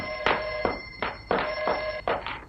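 An old-style telephone rings indoors in a 1960s French-dubbed television drama set in Rome, with rapid repeated trilling bursts in short, regular pulses, close and clear with no voices.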